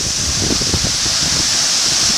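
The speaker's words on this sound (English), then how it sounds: "it's very windy because it's very strong" Strong wind blows near a gushing waterfall, a steady loud roar of rushing air and falling water filling the whole clip with low buffeting gusts and no talk.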